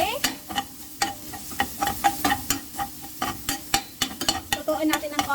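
Garlic sautéing in melted butter, crackling sizzle broken by a steady rhythm of sharp spoon scrapes and taps against the pan, close and fairly loud with no talking.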